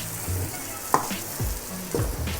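Meat fries in a pan with garlic and onions, a soft steady sizzle broken by several short scraping stirs and clanks of the utensil, fairly quiet and with no talking.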